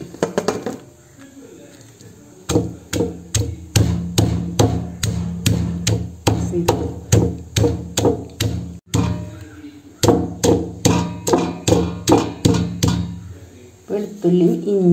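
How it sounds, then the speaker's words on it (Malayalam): Garlic and ginger pounded for Kerala-style dried beef (idiyirachi): a steady run of loud, close, rhythmic thuds that starts after a quiet opening, pauses briefly midway, then keeps going. "വെളുത്തുള്ളി ഇട്ട് ഇടിക്കുക."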